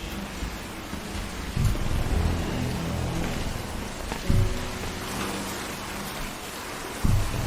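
Steady heavy rain pours down outside an open classroom window during a power cut. Dense, constant hiss and patter fill the whole stretch, with a few low thumps or distant thunder rumbles rising briefly above it.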